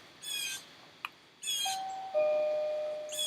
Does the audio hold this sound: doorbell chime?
yes